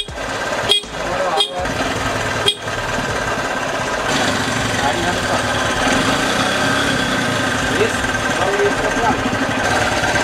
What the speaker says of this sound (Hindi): हॉर्न पहले ठीक से नहीं बज रहा था, तो अब बहुत अच्छी तरह से बज रहा है